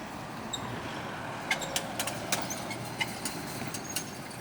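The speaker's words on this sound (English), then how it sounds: "here's the bus, Brian's executive" Heavy road traffic at a roundabout with a bus passing, a steady broadband rumble of engines and tyres with a few brief hiss-like bursts standing out, no talk.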